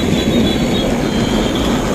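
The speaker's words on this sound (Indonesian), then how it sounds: "Kita bermain kereta api Thomas" A steady rumbling clatter of a small Thomas toy train running along its tracks, close and continuous, with a faint squeal over the noise.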